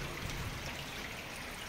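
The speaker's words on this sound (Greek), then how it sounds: "ένας κυβωτοειδής οχετός, ο οποίος φέρνει τα νερά του μέσα στο ρέμα Σαπφούς" Water trickles from a box culvert into the underground Sapfous stream in Marousi, a steady, even wash of running water filling a short stretch without voices.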